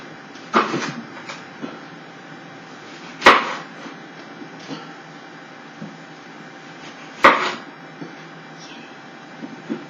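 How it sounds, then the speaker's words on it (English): Knife cutting up an apple on a board, a few sharp separate chopping thuds spaced a few seconds apart with quieter taps between, close and clear. "So let's cut this apple up."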